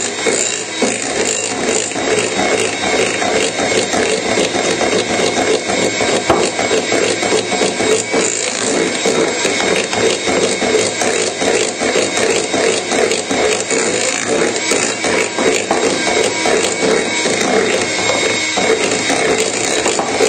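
Hand whisk beating cupcake batter in a bowl, a continuous fast rattling, scraping rhythm that runs close and steady throughout with no voices.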